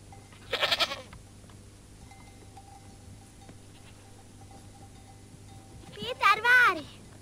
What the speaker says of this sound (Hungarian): Induljatok, buta kecskék!